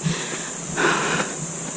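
Heavy, breathy panting from a trekker on Mount Banahaw, one long wheezing breath swelling in the middle over steady wind-like noise, close and fairly loud, with no speech.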